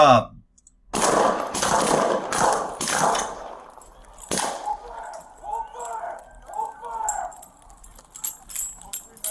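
Police officers fire a rapid burst of gunshots, sharp cracks that pile up in quick succession, followed by a single louder bang and then scattered lighter sounds and movement, with people shouting and talking over them.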